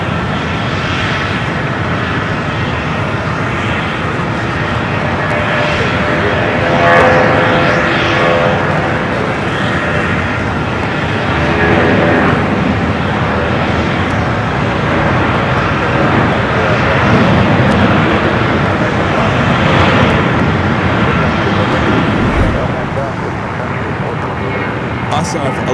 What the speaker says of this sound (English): Also have a Delta A330-200 coming in from JFK, flight 353.